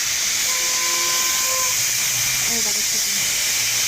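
A pressure cooker of soaked peas on the stove releases a loud, continuous jet of hissing steam, close by, while a voice speaks briefly over it.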